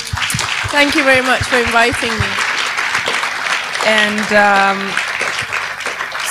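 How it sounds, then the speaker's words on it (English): Audience applause at a talk event, a dense continuous patter of many hands clapping throughout, with a voice speaking over it at moments. "Give an applause to Rosie and Mark."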